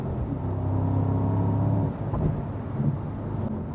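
Mercedes-AMG SL55 on the Autobahn, a steady loud engine drone with low harmonic hum that eases slightly after a couple of seconds, continuing as road and wind rumble.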